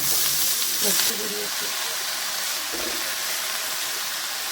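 Red spinach hits hot oil with a loud, steady sizzling hiss that flares at first and then settles into a continuous fry, with faint murmurs of a voice underneath.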